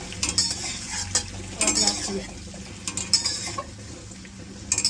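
Egg curry dry-frying in a pan with a little oil gives a steady sizzle, broken by repeated scraping and stirring clinks of a utensil against the metal.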